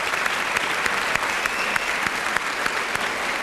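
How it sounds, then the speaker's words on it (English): An orientation audience at a school district event applauds steadily, a dense even wash of clapping lasting several seconds with no talk over it. "I think they deserve a round of applause"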